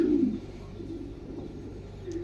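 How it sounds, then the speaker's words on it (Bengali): A strong, active male pigeon of foreign breed coos in a low, steady, repeated murmur, close by and alone with no voices. "যে কোনো কবুতর 5 মিনিট ডাকলে জোড়া নেওয়ার সম্ভাবনা বেশি থাকে"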